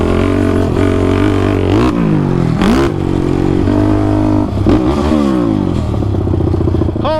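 A built Honda TRX450R ATV engine revs hard and close while being ridden on a track, with repeated rising and falling throttle sweeps, gear changes and some clatter.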